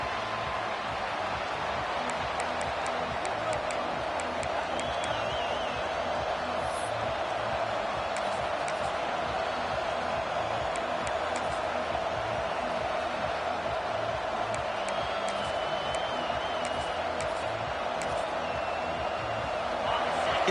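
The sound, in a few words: football stadium crowd cheering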